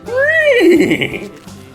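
A single loud, close horse whinny rises in pitch, then shakes through a quavering descending neigh before trailing off, heard alone and lasting under two seconds.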